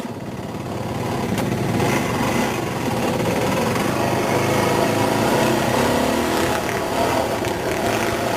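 A Yamaha dirt bike engine runs steadily and fairly close on a trail ride, giving a continuous buzzing drone for the whole stretch with no talk over it.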